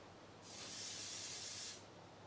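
A can of professional patisserie non-stick release spray gives one close, steady hiss lasting just over a second as it coats the inside of a dessert container.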